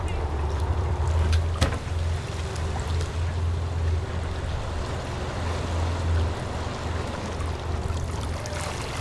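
A catamaran's engine idles in reverse while the boat holds on a day-use mooring ball, giving a steady low rumble beneath continuous water wash and splashing. A faint voice is present.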